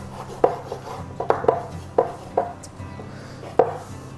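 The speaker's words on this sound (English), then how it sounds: "we're going to go ahead and finish slicing our slices all the way" A knife slicing through smoked, reverse-seared jalapeño tri tip on a cutting board, giving about eight crisp, close knocks at irregular intervals over a low background hum.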